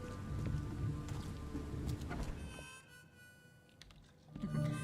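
Storm rain in The Sinking City game, a dense hiss of rainfall with drops on surfaces that cuts off abruptly partway through, leaving a quieter interior before a rumble returns at the end.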